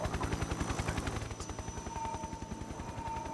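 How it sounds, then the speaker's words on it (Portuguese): Motorcycle engine in the Metal Gear Solid 3 video game, a steady rapid pulsing chug that throbs continuously and loudly throughout, with a faint high tone riding above it. "na verdade, que eles estão é uma moto, não é um helicóptero"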